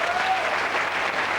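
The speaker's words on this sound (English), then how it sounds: "Give them a big round of applause." A studio audience at a televised hypnosis show breaks into a brief, dense burst of applause, loud and sustained throughout.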